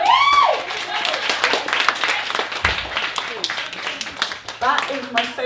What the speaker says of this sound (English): Give yourselves a round of applause, folks.